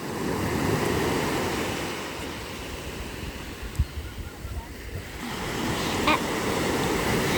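Ocean waves wash steadily onto a beach, a continuous broadband surf roar that swells and recedes, with a brief thump or two midway and light wind on the microphone.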